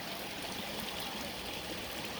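A creek on a forest trail in Morgan Monroe State Forest, Indiana, running a little high, gives a steady soft rush of flowing water, continuous and unbroken at moderate distance.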